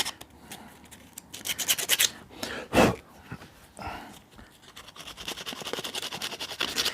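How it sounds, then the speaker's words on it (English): Sandpaper rubbed by hand over an outdoor gear item, giving a series of close, dry rasping strokes in bursts with brief pauses and one louder scrape partway through. "You don't want too coarser grade sandpaper because it'll cause you headaches."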